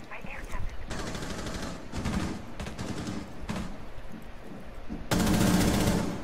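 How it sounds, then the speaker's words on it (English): Bursts of automatic gunfire tear through a barricade in a video game, several sustained volleys separated by short pauses, loud and close, ending in an especially dense, heavy burst. "let me shoot through a random barricade"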